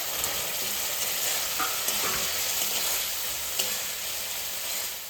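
Spiced masala fried down with bora powder in a hot pan, a continuous sizzle with occasional scraping stirs of the spoon across the pan, close and fairly loud without any talking.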